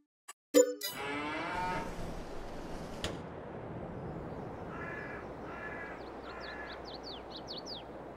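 In a Farming Simulator 22 cow shed holding 140 cows, a sharp loud call opens, followed by drawn-out moos and faint repeated bird-like chirps over a soft steady background hum.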